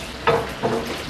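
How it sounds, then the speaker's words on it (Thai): Oil sizzles in a pot as aromatics like onion and tomato are stir-fried, with two quick bursts of frying noise close by. "ผมใส่น้ำมันครับสำหรับที่เราจะผัดพวกเครื่องหอมของเรา"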